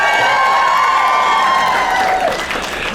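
An audience at a Supernatural fan convention in New Jersey cheers and applauds loudly and without a break, a dense roar of clapping, whoops and shouting voices that carries on for several seconds.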